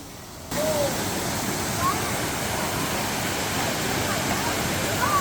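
Steady broadband rush of a Hawaiian waterfall along the Road to Hana, continuous and fairly close, with a few faint high chirps over the constant water noise.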